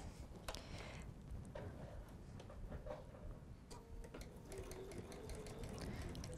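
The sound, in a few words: sewing machine stitching a quarter inch seam on quilt tree skirt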